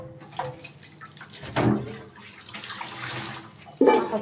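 Tap water runs into a kitchen sink while frozen okra is being rinsed, a close, uneven splashing stream that surges loudly in a couple of bursts.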